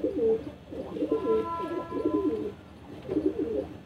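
Red desi high-flyer pigeons coo in soft, repeated throaty bursts close by, with a faint steady whistle in the background.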